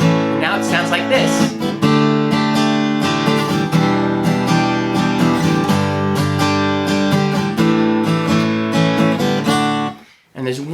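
Guitar strumming through a modified chord progression, full and continuous for about ten seconds with rhythmic chord changes, then cutting off abruptly near the end.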